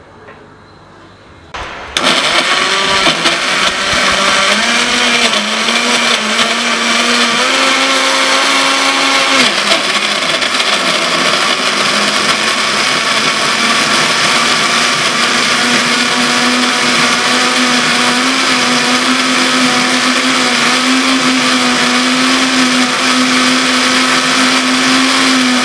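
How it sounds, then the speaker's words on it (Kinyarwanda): An electric grinder mincing meat for meatballs switches on after a brief quiet moment, then runs as a loud, steady, whirring motor drone through to the end, with no voices over it. "hanyuma dushyire mu kamashini tuzisye"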